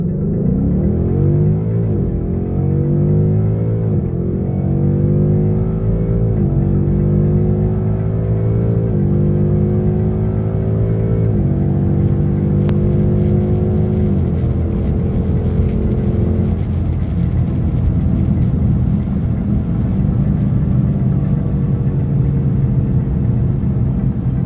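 A car in track mode with the gear lever in S accelerates hard from a launch, its engine note rising and shifting through several gears in a loud, continuous run that later levels into steady road roar.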